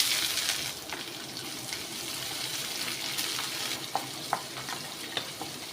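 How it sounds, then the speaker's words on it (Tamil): Onion frying with ginger in a pan makes a soft, quiet sizzle with a few sharp stirring clicks near the end, no one talking. "வெங்காயம் ஒன்று கட் பண்ணி வச்சுருக்கேன் வெங்காயம் ஆட் பண்ணிக்கலாம்"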